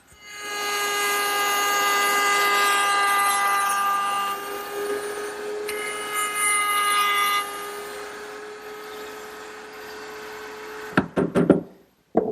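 A handsaw works through wood for a miter cut on a corner cupboard, making a steady rasping drone that fades toward the end and is followed by a few sharp knocks.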